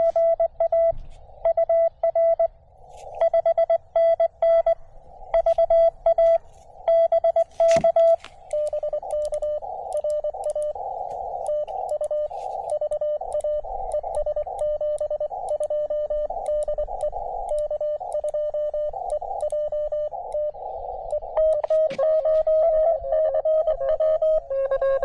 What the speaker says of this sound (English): I heard CW in there.